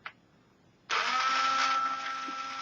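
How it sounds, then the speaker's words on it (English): The battery motor of a G1 Trypticon transformer toy turns its radar dishes: a small click of the switch, then a sudden loud, steady mechanical whirring that drones on, close up and noisy. "the radar dishes revolve on their own via a battery motor. Now it is a noisy motor"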